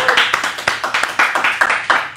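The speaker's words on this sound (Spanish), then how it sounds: "Un aplauso para Tambo Films." Studio applause for a film production company on a talk show, a short run of rhythmic hand claps, fairly close and loud, with faint voices underneath.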